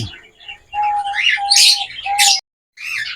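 Parakeets calling from a breeding cage, a close, loud run of shrill chirps and squawks in quick bursts with a brief pause before a final burst.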